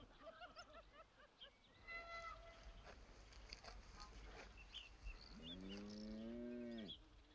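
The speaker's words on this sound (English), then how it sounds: "Cows were here before me." Cattle lowing outdoors near a person, with a long, loud moo rising in the last couple of seconds after fainter bovine calls earlier, over a steady noisy background of wind or water.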